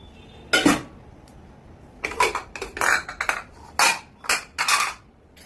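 Ceramic plates and steel dishes clatter as a plate is pulled from beneath a stack in a home kitchen, one sharp knock followed by a cluster of close, ringing clinks and scrapes.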